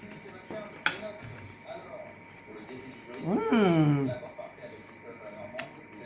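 Spoon clinking against a dish while basting celeriac baked in a bread crust, a few light scattered taps with a voice speaking in the middle.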